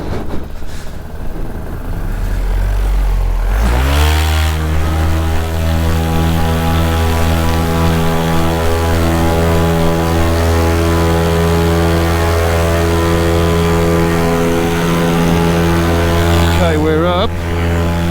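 A rebuilt paramotor engine roars up from a brief low rumble to a steady, loud drone during takeoff, holding slightly short of full RPM for the rest of the run, with harmonic engine tones and no speech.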